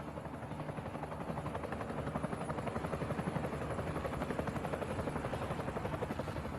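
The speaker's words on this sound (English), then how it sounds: "The small helicopter can barely lift her" A small helicopter strains to lift off with cargo, its rotor thudding in a fast, even, pulsing rhythm that grows steadier and louder as it climbs. The beat stays close and dominant, with no voices.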